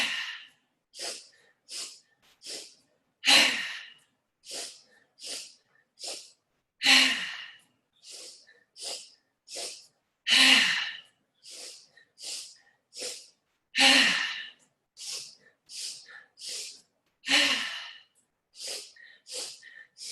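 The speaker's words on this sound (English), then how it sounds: "It's an inhale, inhale, inhale, exhale." Yoga breathing in a repeating pattern of three short inhales followed by one longer exhale, each breath close and clearly audible, repeating steadily several times without talk.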